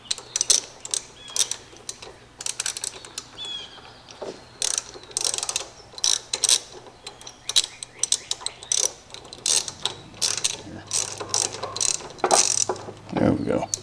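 A spark plug socket ratchet backing out the spark plug on a Husqvarna engine gives rapid clicking pawl bursts in repeated short strokes, close and fairly loud, with brief pauses between runs.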